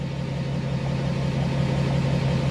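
A Duramax diesel pickup engine idling steadily with a low, even hum and faint rumble, close and continuous, with no voices.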